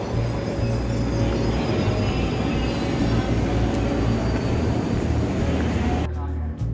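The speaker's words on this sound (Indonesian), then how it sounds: "kereta api tujuan Cikarang dari arah stasiun Manggarai masuk di jalur 1 stasiun Jatinegara" A Cikarang-bound commuter train arriving from Manggarai rolls onto track 1 at Jatinegara station with a loud, steady rumble of wheels and carriages that cuts off abruptly near the end.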